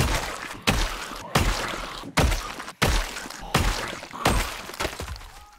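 Repeated heavy melee hits from an axe in a zombie survival game: a series of about seven sharp thwacks with crunching, splintering impacts at a steady rhythm, close and loud, each fading quickly.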